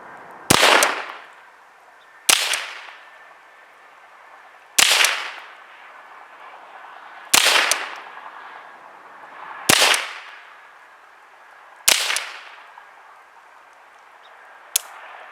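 Seven sharp .22 rifle shots from a Ruger 10/22 or Henry AR-7 fired outdoors in snow, each a loud crack trailing into a rolling echo, spaced a couple of seconds apart.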